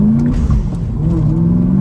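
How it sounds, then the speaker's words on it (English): A drifting car's engine revving hard during a clutch kick, a loud, close, sustained droning growl that dips briefly and climbs again, with no voices. "Clutch kick."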